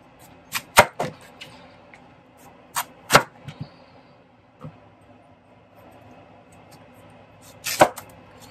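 A knife cutting a red kuri squash into smaller pieces on a cutting board: sharp, separate knocks and chops, some in quick pairs, spaced apart by quiet stretches, close and fairly loud.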